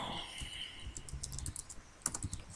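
Slow typing on a computer keyboard, sparse irregular key clicks close by, quiet and unhurried, with a faint voice briefly in the background.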